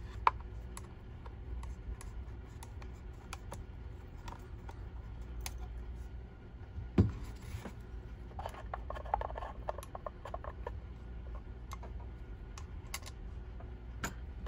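A screwdriver backs screws out of the side cups of a Sony SRS-XB33 Bluetooth speaker, giving faint close ticks and clicks at an uneven pace, with one sharper knock partway through.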